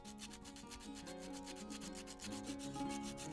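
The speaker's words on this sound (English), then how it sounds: "Rolling this emery cloth around a steel ruler gives me a good work tool to get inside the prongs of the" Emery cloth wrapped around a steel ruler rubs rhythmically against the metal adjustment pin of an antique leatherwork draw gauge, quiet, close, rapid back-and-forth strokes with no talking.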